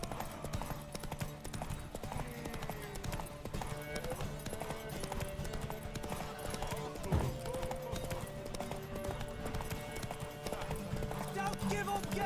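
Horse hooves clip-clop in a steady galloping rhythm during a race in The Witcher 3, set against game music and ambience, with a brief whinny and voices talking over the hoofbeats.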